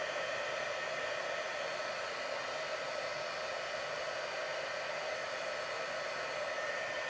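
Heat tool blowing hot air to melt embossing powder, a steady, even hiss that holds without a break throughout.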